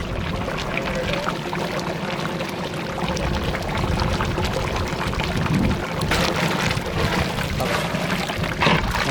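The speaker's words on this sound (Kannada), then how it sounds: "ನೀರು" Water pours steadily into a cooking pot for pepper chicken biryani, making a continuous rushing, splashing flow that stays fairly loud and unbroken for several seconds.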